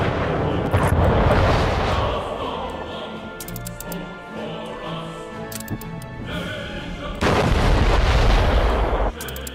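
Artillery fire booms during a naval battle in the video game Anno 1800, a series of heavy blasts and rumbling impacts in a dense battle soundscape, loud throughout with surges of louder fire, a voice sometimes heard beneath.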